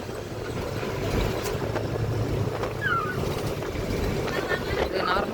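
A TNSTC state transport bus runs along the ECR road, its engine and road noise forming a steady low rumble with wind rushing throughout, alongside faint background voices.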